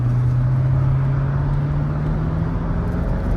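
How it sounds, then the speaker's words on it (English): A Mercedes R230 SL500 V8 pulls under throttle while driving, its engine note rising steadily in pitch over a few seconds beneath constant cabin and road rumble, with no talking. "we'll give it a little bit of a bootful here just to show the engine revs smooth and everything"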